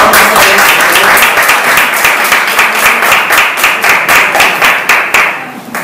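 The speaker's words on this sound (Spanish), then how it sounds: "Un aplauso." A crowd applauds steadily at an outdoor event marking the release of a rehabilitated rescued dolphin by Corpamag and the Rodadero Aquarium, dense clapping that fades slightly near the end.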